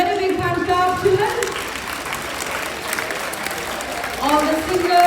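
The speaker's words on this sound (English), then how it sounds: "Give them a very big hand clap, children." A crowd of schoolchildren applauds a team on stage at a school event, with sustained dense clapping, and a voice talks over it.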